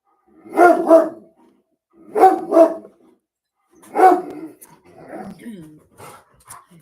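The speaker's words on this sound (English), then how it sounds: "You can't make it through a live stream without barking." A dog barks in short doubled bursts, three times with pauses between, then trails off into softer whines and yips, close by.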